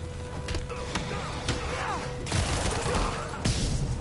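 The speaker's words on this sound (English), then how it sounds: "Is someone shooting at me from off the roof?" Gunshots in the Spider-Man PS4 game, several sharp reports in irregular volleys mixed with thuds and action noise, fairly loud, under brief game chatter.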